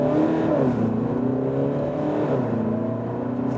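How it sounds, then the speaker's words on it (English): A 2020 Volkswagen Passat with a 2.0 TDI bi-turbo diesel accelerates hard from standstill to 80 km/h. The engine note climbs in pitch through the gears, heard steadily from inside the car with no voices. "So it was a 0 to 80 kilometers acceleration. Here now with the 2-liter TDI bi-turbo"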